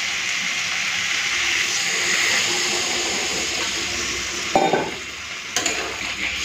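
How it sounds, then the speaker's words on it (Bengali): Water poured into a hot pan of rohu fish curry with green chillies, a loud steady hiss and steamy sizzle close up, with a few clanks of stirring near the end and no talk. "এখন জল দিয়ে দিচ্ছি।"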